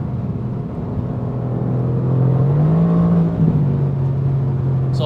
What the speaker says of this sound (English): This car just wants to go. 180 is absolutely nothing for this car.